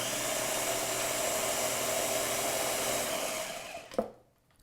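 A food processor whirs steadily as it blends fresh pesto with garlic and paprika, a loud continuous motor drone that runs for several seconds and then cuts off abruptly with a brief clunk.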